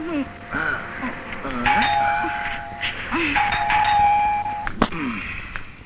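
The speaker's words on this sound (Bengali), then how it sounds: "কিরে এতক্ষণ যাবত বেল দিচ্ছি?" A two-tone doorbell chimes inside a house, ringing several times in a row at close range, with voices and background noise in between.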